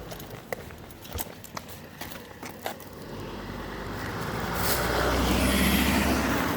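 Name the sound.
car passing by on the street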